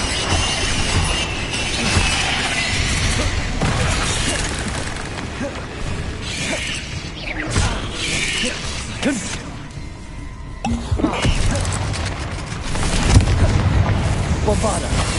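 Booming Confringo spell blasts from the game Hogwarts Legacy, set in a fight against a giant spider: repeated loud explosions and crashes mixed with other spell effects, while voices speak over the din.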